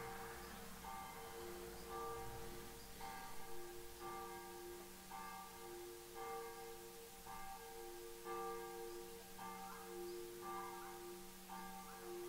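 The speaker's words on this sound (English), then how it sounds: "Any minute now, the bells will stop and I can keep recording." Church bells ring out in a steady, repeating peal, distant and fairly faint against soft background noise, with no one speaking.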